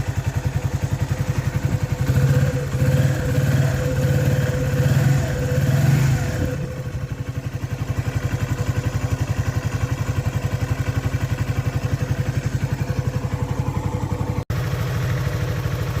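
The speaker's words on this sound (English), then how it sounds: "Does run sweet, this bike." A Lexmoto ZSB motorcycle engine idles steadily and close by on a cold day, with a brief rise in revs early on before settling back into an even, continuous putter.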